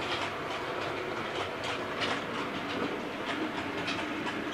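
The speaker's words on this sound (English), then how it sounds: "So we're just waiting for the train now to go on the platform side" A model railway train runs along the track of a layout during track laying, giving a steady, continuous rolling clatter with light rhythmic clicks and a soft hiss throughout, with no talking.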